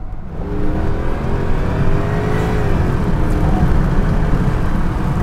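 Jaguar XJ8 with the 4.0-litre AJ26 V8 revving, a steady, loud engine drone that rises slightly in pitch and holds throughout, close by and alone with no talking.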